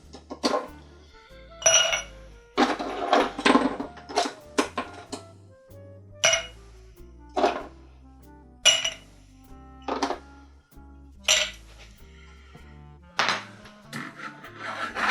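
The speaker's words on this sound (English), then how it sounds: "we're going to put some ice in the glass as well" Ice cubes clink and tumble into a glass while a Paloma tequila cocktail is made, a series of sharp, bright rattles in separate bursts, close up and fairly loud, with no talking.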